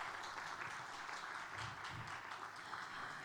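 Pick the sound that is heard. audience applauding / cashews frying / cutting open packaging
audience applauding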